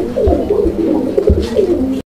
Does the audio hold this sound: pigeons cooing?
yes